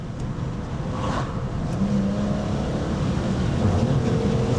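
From inside the cabin, an MG ZT-T with a 2.5-litre V6 engine accelerates under a broad road and engine rumble, its tone rising steadily as it revs.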